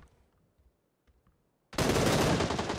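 Dense, sustained burst of automatic gunfire erupts abruptly after a quiet stretch with faint noises in a battle royale shooter, loud and continuous until the end.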